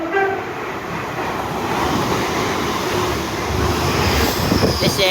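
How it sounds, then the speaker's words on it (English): A Great Western Railway IET train passes through a station, a loud, steady, close rumble of wheels and motors lasting throughout, with a faint high tone above it and no one talking. "Passing through now is an IET."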